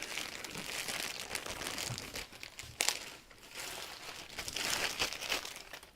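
Plastic bag holding Silver Glide paste crinkles and rustles steadily up close for several seconds, with a few sharper crackles, no voices.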